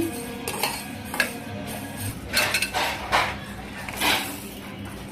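Coriander seeds, fenugreek and cumin dry-roasting in a pan, with a string of metallic clinks and scrapes as a utensil stirs the spices against the metal, steady and close with no voices.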